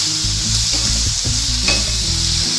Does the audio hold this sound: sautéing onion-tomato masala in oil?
yes